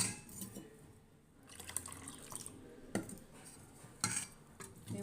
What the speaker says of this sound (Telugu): చక్కగా వాటర్ వేసి కలిపి పెట్టుకోండి.